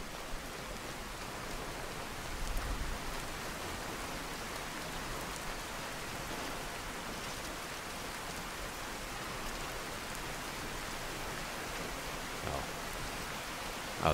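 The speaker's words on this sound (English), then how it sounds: "Great, it's raining now." Rainfall in the game Skyrim forms a constant, soft wash of pattering drops that holds steady throughout, with only slight swells and no talking.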